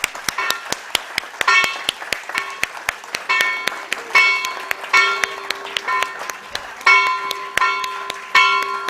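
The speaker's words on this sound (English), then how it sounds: "Can we have a big round of applause?" Scattered, sharp claps from a small gathering at a stock exchange listing ceremony, mixed with repeated bright bell rings that stand out over the clapping.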